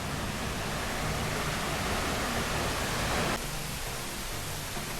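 Loud, continuous rushing roar of Alupola Ella waterfall in Sri Lanka, a dense broadband hiss that shifts slightly partway through, with no voices.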